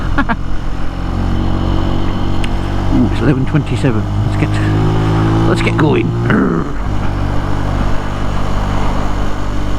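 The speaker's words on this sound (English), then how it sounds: "So yes, the bike now actually starts." Motorcycle engine idling steadily and loud close by on a first ride, with a low constant rumble and a few revs, while someone talks over it.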